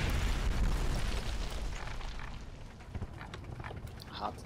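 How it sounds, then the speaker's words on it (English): A mortar or tank shell explosion in the WWII strategy game Combat Mission, set in Normandy hedgerows near an old orchard, gives a heavy, loud rumbling boom that slowly fades with scattered distant crackles. "What's that? Mortar or tank shell?"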